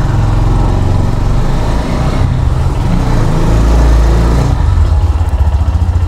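A GPX Demon Rider motorcycle idles steadily close by, its engine giving a continuous low, throbbing chug with no voices over it.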